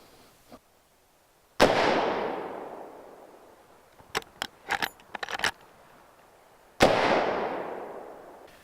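Gunshots fired at a Cut Buddy hair-cutting template: two loud sharp cracks a few seconds apart, each trailing into a long ringing decay, with a cluster of light metallic rattles and clatter between them and no talking.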